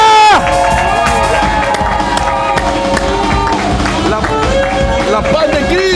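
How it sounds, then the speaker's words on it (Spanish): A church congregation shouts and cheers in jubilation, a loud, sustained crowd roar of voices with whoops and calls filling the room throughout. "un grito de júbilo."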